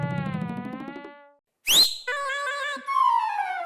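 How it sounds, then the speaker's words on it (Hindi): A person whistles in a few short sharp bursts, one rising squeal followed by steady pitched notes, coming right after a brief hum of voice and a moment of silence. "बापूजी आते हुए दिखे ना तो सीटी बजाना"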